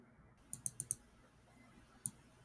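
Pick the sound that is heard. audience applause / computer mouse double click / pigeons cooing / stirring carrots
computer mouse double click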